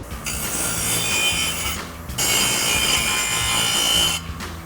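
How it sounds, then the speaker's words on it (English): Grinder cleaning up the cut edges of an exhaust pipe for a Ford F-150 EcoBoost Flowmaster Outlaw dual exhaust, two loud, rasping grinding passes separated by a short pause, then a brief start of a third. "Now we're gonna come over to our grinder and clean up the edges on the cut that we just made."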